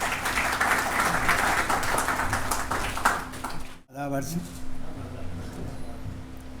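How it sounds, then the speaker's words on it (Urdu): At a London Urdu literary celebration, an audience claps to welcome a speaker. The applause is dense for about four seconds, then cuts off abruptly, and a voice takes over over a faint room hum. "آپ کی تالیوں میں۔"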